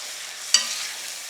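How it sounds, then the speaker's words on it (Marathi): Tomato, ginger, garlic and green chili paste sizzles steadily in oil, a close, even frying hiss with one sharp stirring scrape near the start. "आता यालाही चांगलं तेल सुटेपर्यंत परतून घ्यायचं"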